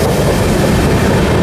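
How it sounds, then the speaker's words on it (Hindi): An Amrit Bharat Express arrives at good speed on the main line at Durg, a steady, loud, dense rolling rumble of wheels and carriages that continues without a break. "अच्छी खासी रफ्तार में मेन लाइन अराइवल हो रहा है दुर्ग में।"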